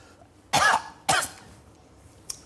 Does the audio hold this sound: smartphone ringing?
no